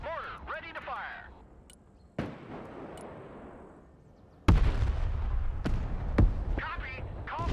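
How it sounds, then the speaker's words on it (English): Mortar fire in the military video game Broken Arrow, with sharp sudden booms and heavy blasts punctuating the scene, several loud hits alongside radio-style voices talking. "Mortar ready to fire."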